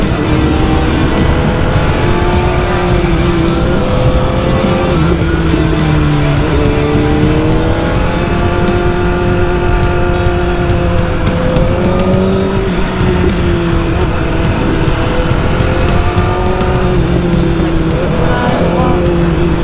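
A BMW M1000R motorcycle engine revving hard as it rides fast, the pitch climbing and dropping through gear changes in a loud, continuous roar with no talking.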